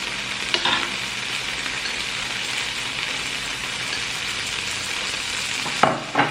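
Garlic butter shrimp with noodles fizz and sizzle steadily in a hot pan, a constant bright crackle close by, broken by a couple of short clinks or stirring sounds near the start and end.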